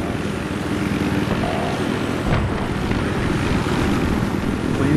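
Helicopter in Battlefield 3 flying, a loud, dense, continuous rotor and engine roar holding steady throughout with no voices.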